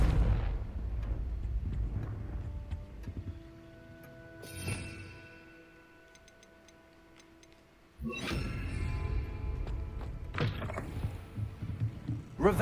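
Confringo fire spell blasts in Hogwarts Legacy, loud bursts with rumbling low-end impacts over a busy game soundscape, a quieter stretch in the middle before a sharp return of crackling energy near the end.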